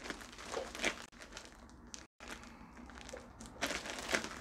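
Cotton balls coated in petroleum jelly being mushed and squished by hand, giving soft, close, wet crinkly rustling in irregular bursts with a brief silent gap midway.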